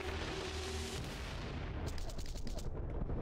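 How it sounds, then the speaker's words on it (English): Grenade explosion in the action game Wanted: Dead, a loud, sustained blast of broadband rumble and crackle with gunfire-like bursts that thins out toward the end, heard close and up front. "Oh, I fucked up my grenade."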